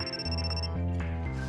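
An incoming-call ringtone in a video game plays steadily and close, a tonal chiming ring with bright repeating notes over a sustained low hum, alone without talk.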